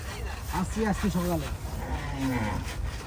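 Cattle low with a few loud, drawn-out moos at the Diabari cattle market in 2024, heard close amid the chatter of people talking nearby.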